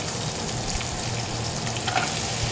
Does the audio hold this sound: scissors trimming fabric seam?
no